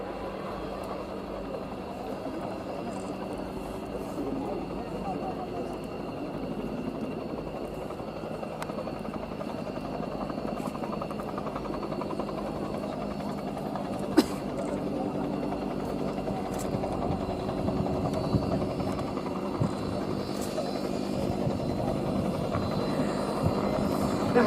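A Whirlwind HAR-10 helicopter passes slowly at an air display, its rotor chop and turbine whine forming a steady, moderately distant drone that swells gently over about twenty-five seconds, with crowd murmur faintly underneath.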